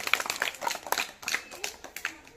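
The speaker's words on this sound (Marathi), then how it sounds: "साईसाठी एकदा टाळ्या होऊन जाऊ दे एकदा" A small group claps for a student named Sai, a short burst of light, uneven hand claps close by, with a voice speaking over it.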